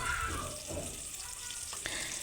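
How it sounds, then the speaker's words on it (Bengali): Green chillies, onion and garlic fry in hot oil in a pot, a steady close sizzle with faint stirring noises and no speech. "পাতিলের মধ্যে পরিমাণ মতো তেল দিয়ে তেলটা গরম করে এর মধ্যে আমি কিছু কাঁচামরিচ আর পেঁয়াজ রসুন পরিমাণ মতো দিয়ে দিলাম।"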